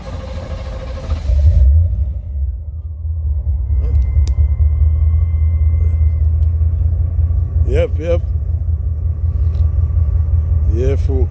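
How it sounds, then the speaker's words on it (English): A car engine idles with a steady low rumble throughout, close and continuous, with brief speech over it and a few short voiced sounds near the end. "you just want to hear the engine beat"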